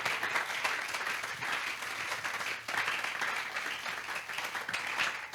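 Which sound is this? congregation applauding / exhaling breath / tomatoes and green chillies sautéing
congregation applauding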